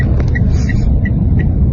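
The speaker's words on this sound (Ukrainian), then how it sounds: "Едем на аварійках, с включенными фарами" A car creeps along a road through thick smoke from a fire near Sosnivka, hazard lights and headlights on, its steady low engine rumble and road noise filling the clip with faint repeated ticks above.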